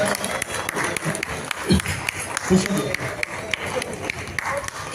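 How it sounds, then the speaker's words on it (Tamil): Enthusiastic clapping from an audience at a school alumni reunion memento presentation, dense, continuous applause with a few sharper bursts, moderately loud, with crowd murmur and a voice underneath. "உற்சாகமான கரகோஷம்"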